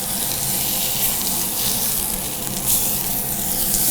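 A reverse-seared ribeye steak sizzles in a Lodge Blacklock cast iron skillet, giving a steady, close hiss of frying that holds an even level without talk.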